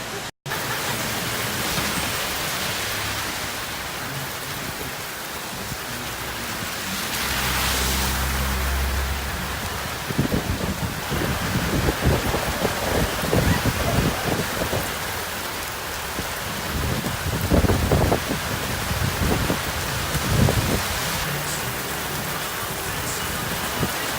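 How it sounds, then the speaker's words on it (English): Heavy rain pours down in historic downtown Grapevine, Texas, a loud, steady hiss of drops hitting surfaces, with occasional low rumbling swells and spattering bursts running through the whole stretch. "So we got rain in historic downtown Grapevine,"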